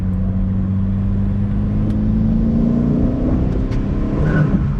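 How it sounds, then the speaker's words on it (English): A 2001 Saab 9-3 Viggen accelerates hard in third gear with its wheels spinning, the engine drone loud and steady from inside the car as its pitch climbs. "You hear the wheel spin in that."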